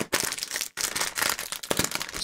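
A plastic package of green pea snacks being crinkled and wrestled open by hand, close and fairly quiet, with bursts of sharp crackling and crumpling separated by brief pauses.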